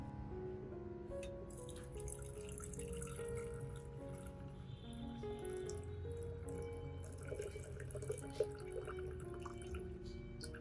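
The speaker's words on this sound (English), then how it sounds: "I'll decant the liquid." Liquid is decanted from settled orchid fertilizer mix, pouring and dripping steadily into a container, a continuous trickle with occasional louder drops, close by and without any talking.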